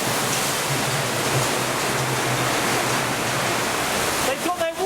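Waterfall at the Thorpe Park theme park, a loud, steady rush of falling water filling the scene, with a brief break near the end.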